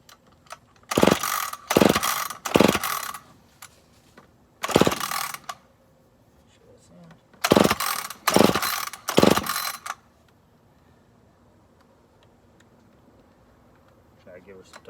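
A rebuilt McCulloch Super Pro 80 chainsaw being pull-started: seven loud rasping recoil pulls in two bursts of three and four, then near silence.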